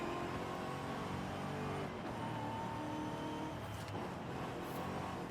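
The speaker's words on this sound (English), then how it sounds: "I can still hear the supercharger." Car engine with supercharger whine heard from the interior view in Forza Horizon 5, a steady, dense drone of engine and blower that holds throughout without a break.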